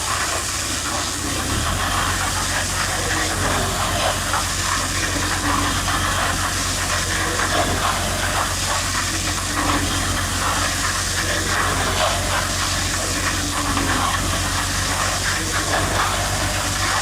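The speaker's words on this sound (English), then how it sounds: "Rev it up a little bit." Farm machinery used for fencing, baling and topping runs its engine loud and close. A continuous heavy rumble and broad hiss hold steady throughout with little change.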